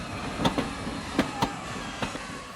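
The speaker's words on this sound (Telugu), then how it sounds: "అయ్యో ట్రైన్ స్టార్ట్ అయింది" A train pulling out of a station in a Telugu film comedy scene, its wheels giving a few scattered, fairly loud clanks over a steady rumble with no voices.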